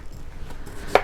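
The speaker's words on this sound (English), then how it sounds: "I'm cutting up our potatoes into about 1/4 inch rounds" A knife slices peeled sweet potatoes into quarter-inch rounds on a board, with quiet cutting sounds ending in one sharp knock of the blade, and no voices.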